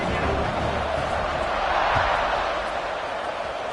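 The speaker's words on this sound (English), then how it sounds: "this crowd is buzzing after that last score" A stadium crowd at a college football game between Arizona State and BYU keeps up a broad, steady roar after a touchdown, a continuous wash of noise at even volume.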